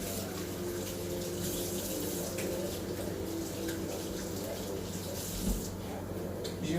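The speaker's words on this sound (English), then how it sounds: "Wash our hand off." Tap water runs steadily into a sink while hands are washed under it. The flow is a constant close rush with faint splashing, with no talk.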